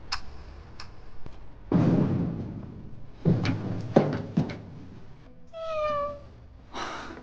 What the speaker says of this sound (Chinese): 别紧张，野猫而已。